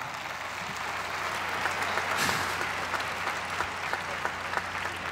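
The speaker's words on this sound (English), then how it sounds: "Give them a round of applause." Audience applause at a live mathematics performance by Arthur Benjamin, a steady, dense wash of clapping from a large crowd that holds evenly for several seconds with a slight swell in the middle.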